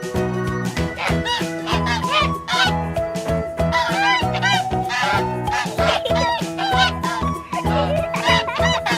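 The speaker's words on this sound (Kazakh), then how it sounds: "Қаз га-га-га-га-га-га дейді." A farmyard goose honks over and over, its nasal calls sitting within a busy, continuous children's song with bright music throughout.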